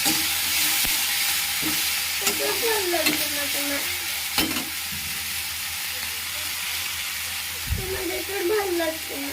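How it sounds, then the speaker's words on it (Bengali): Fish frying and being stirred in a pan in a home kitchen, with mango and spices in the mix. A steady, dense sizzle runs throughout, and a spatula occasionally scrapes and clatters against the pan close by. "একটু ভাজা ভাজা হয়ে গেলে মাছটাও ভাজা হয়ে যাবে"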